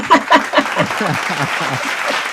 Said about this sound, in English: I want to give you an applause for that